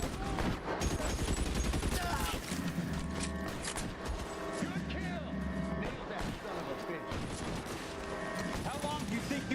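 Sustained gunfire during a shootout in L.A. Noire, with rapid overlapping shots and clattering mechanical noise that stay loud and dense throughout, mixed with game music and shouted voices.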